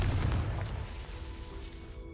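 A Confringo spell blast in the video game Hogwarts Legacy bursts out as a deep, heavy boom at the very start, then decays into a rumbling tail over about two seconds.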